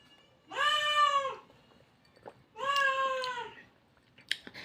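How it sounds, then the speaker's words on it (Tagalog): An indoor house cat gives two loud, drawn-out meows about two seconds apart, close to the listener, with soft clicks and faint rustling in between. "Maingay yung pusa ko."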